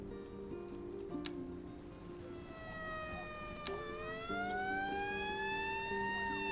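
An emergency vehicle siren in a city-building game, a wailing tone that sweeps up and down over a repeating game music or ticking loop, moderately loud and continuing steadily.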